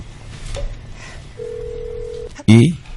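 A telephone in the video game Monolith 3 sounds one sustained electronic tone, then a sudden loud burst follows as a voice speaks over faint background.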